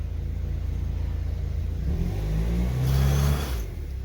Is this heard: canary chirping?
no